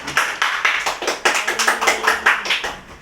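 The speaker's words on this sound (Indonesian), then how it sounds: "Boleh tepuk tangan" Students in an elementary classroom clap together in a steady, rhythmic unison beat, about four claps per second, loud and close with no talking.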